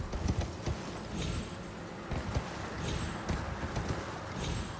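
A horse's hooves gallop in the video game Elden Ring, a rhythmic run of low thudding beats that swells and fades across the span, quiet and steady with no talk over it.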